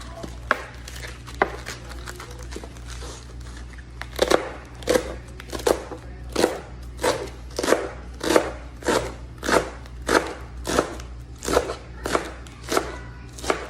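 Knife slicing through rolled-up leaves on a board, close and crisp, a steady run of evenly spaced chopping cuts that grows busier after a few quiet seconds, over a low background hum, no speech.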